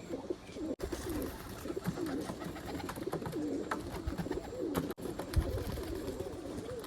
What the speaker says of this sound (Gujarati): કબૂતર આવી જાય સેટઅપની અંદર